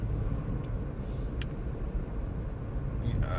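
A low, steady engine and road rumble fills the cabin of a car driving along, with a couple of faint brief clicks and no talk.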